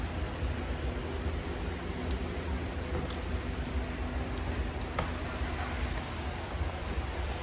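Steady rain drumming on a moving Audi Quattro, with a constant low road rumble and occasional sharp drops or ticks on the body.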